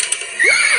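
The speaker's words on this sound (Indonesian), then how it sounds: "Wow, udah bawa kuda." A cartoon horse in a comedic Granny animation gives a short neigh with a rising whinny over a brief mechanical clatter, loud and close.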